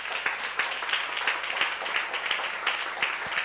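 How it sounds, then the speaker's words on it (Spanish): Steady applause from a church congregation, a dense patter of clapping that holds at an even level throughout. "Un fuerte aplauso al Señor."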